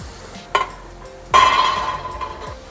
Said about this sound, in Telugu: ఇప్పుడు మీడియం సగం మీద మనం ఆయిల్ని వేడి చేసి దాంట్లోకి ఈ గ్రైండ్ చేసుకున్న బీన్స్ని యాడ్ చేద్దాం